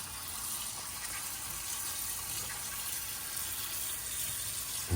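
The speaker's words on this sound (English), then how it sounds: "Just put the noodle in a nice sized bowl and then get this warm water over it." Warm water pours steadily over dry noodles in a bowl, a continuous close-up hiss and trickle that runs unbroken for several seconds before a brief louder bump at the end.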